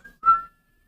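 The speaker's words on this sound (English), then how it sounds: "What about whistling?" A short whistled note, a brief tone followed by a louder, slightly wavering pitch that fades after about half a second, alone and close.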